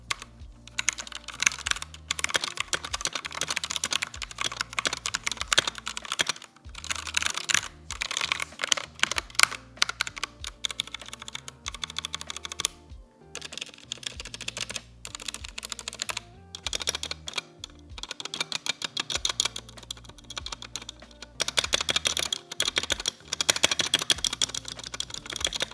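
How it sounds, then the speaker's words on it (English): Rapid, steady typing on a Ninja 71 custom mechanical keyboard fitted with stock Kailh Red switches, with dense keystroke clatter running nonstop from close up and brief pauses between bursts. "I'm gonna go ahead and give you guys a sound test now of everything stock on the board"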